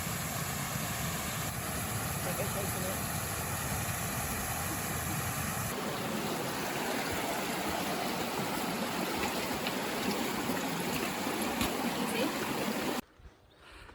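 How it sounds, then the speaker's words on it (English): A flooded river in South Africa roars continuously, a dense wash of flowing noise that cuts off abruptly near the end. "So the river has flooded and cut off a couple of our routes."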